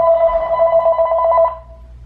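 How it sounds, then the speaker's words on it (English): A mobile phone rings indoors, a steady electronic ringtone with a pulsing tonal pattern lasting about one and a half seconds before cutting off, loud and close with no talk over it. "my phone is ringing"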